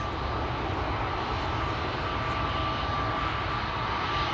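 Boeing 787-10 and Pegasus Airbus A321neo taxiing at Schiphol, a steady, broad jet engine rumble with a faint whine, continuous and moderately loud throughout.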